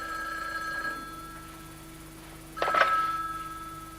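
A telephone rings indoors in two short bursts, one at the start and a louder trill near the end, with quiet room tone between.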